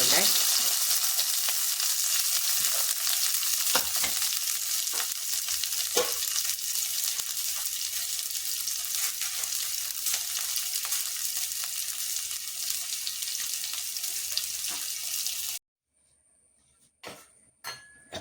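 Onion, ginger and garlic fry in a pan of oil with popped fenugreek and mustard seeds for prawn curry. A steady, dense sizzle runs for about fifteen seconds, then stops, and a few utensil clinks follow.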